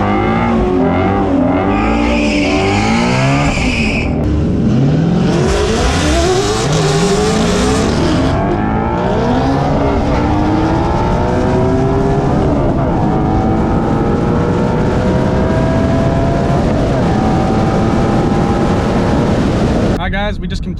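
A Ford Mustang GT350 makes a drag strip run, its engine roaring loudly in repeated rising sweeps through the gears, with a brief tire squeal at the launch and continuous racing noise throughout.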